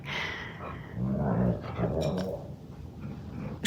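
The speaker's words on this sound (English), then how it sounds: "My dog." A dog growls up close, low and rumbling, in a couple of sustained stretches, with soft whimpery edges and no clear barks. No one talks.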